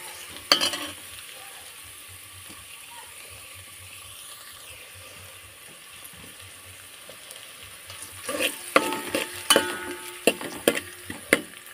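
Cumin seeds and onion frying in hot oil make a faint, steady sizzle, and near the end louder clattering stirring strokes come through.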